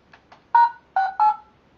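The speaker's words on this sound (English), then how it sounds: "play the tones through the phone," Telephone adjustment tones for a hearing aid, sent over the phone line: two faint short blips, then three louder clean beeps in quick succession, with no voices.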